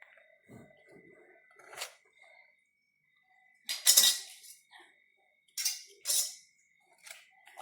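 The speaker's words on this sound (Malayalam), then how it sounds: "എല്ലാം വാരി വെച്ചിട്ട് നമുക്ക് ഇച്ചിരി ഉപ്പിട്ടൊന്ന് ഞെരടി വെക്കാം." Curry lemons being tossed and pressed with salt in a metal vessel, giving scattered clinks and scraping rustles in several bursts with quiet gaps, close and fairly soft, with a little faint talk.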